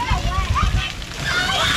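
Water splashing and sloshing down at a water park pirate ship, with bursts of splatter close by and a voice mixed in.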